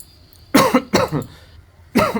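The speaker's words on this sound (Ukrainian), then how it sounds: "Мені рефлекторно самому захотілося відкашлятися" Three loud, close coughs in a short burst, the first two in quick succession and the third after a pause.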